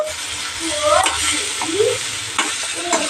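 Coconut chutney ingredients fry in a pan with a steady broadband sizzle, joined by a few scraping stirs and spatula clicks, moderately loud and close.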